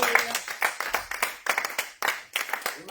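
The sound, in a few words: church congregation applauding and cheering at Easter service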